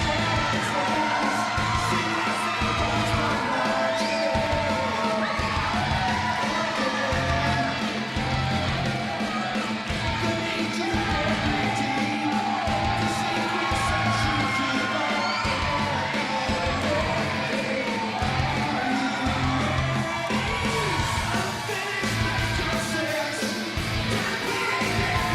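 A dense indoor crowd cheers, yells and whoops continuously at a wrestling match, loud and sustained for the whole stretch, with voices mixed through it.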